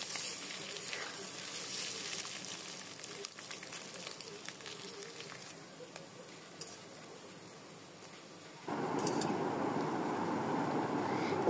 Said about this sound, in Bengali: ডিমটা একটু ভেজে নিয়ে হালকা করে এরপর তুলে রেখে দিয়ে পেঁয়াজ কুচির ভিতরে দিয়ে দিতে হবে